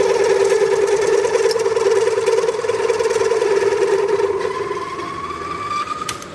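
A drill grinds steadily through metal on a Honda Goldwing motorcycle up close, its whine holding level and then slowly rising in pitch as it cuts.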